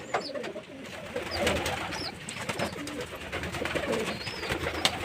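Pigeons coo softly amid a busy ambient background, with scattered fluttering and faint chirps as they come down to drink water; the murmuring calls repeat steadily throughout.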